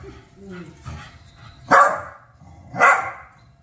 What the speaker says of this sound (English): I know you want the mouse, but you don't need to be barking.